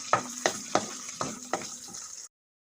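Pork returned to a pan of cooked ground meat sizzles steadily, broken by several sharp stirring scrapes at a regular pace before cutting off abruptly.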